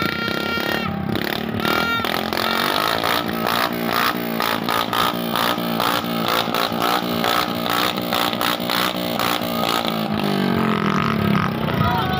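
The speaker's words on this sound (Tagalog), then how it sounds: "Maging ang motor ng kapad ko ay binarurot na upang magpaingay ito." Motorcycle engine revved hard during New Year's celebrations, a loud, close, continuous snarling roar with repeated throttle surges and rising pitch.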